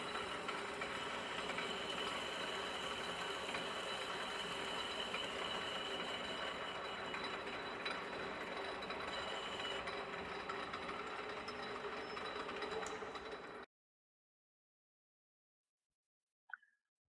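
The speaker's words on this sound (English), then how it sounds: "Switch on the machine and give some depth there." A drilling machine drones steadily for about fourteen seconds, a continuous motor hum with a faint rattle, then cuts off, followed by a brief click.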